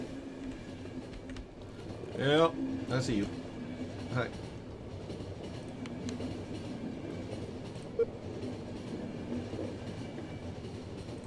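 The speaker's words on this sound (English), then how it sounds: "Fantastic train!" Train running in the video game The Final Station: a steady, moderately loud rolling rumble with faint clicking of wheels throughout, while a character talks briefly over it and a few squeaky tonal sounds cut through.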